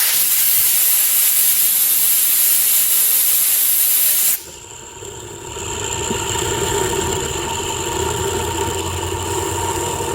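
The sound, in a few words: air compressor blowing air through Sea-doo crankshaft bearings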